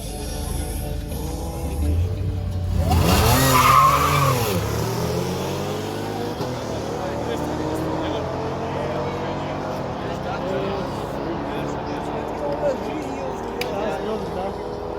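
Race cars launch and roar down the strip in an FSB Street class drag racing semifinal in Ingushetia, a loud engine surge building and then fading into sustained distant engine drone as an announcer talks throughout.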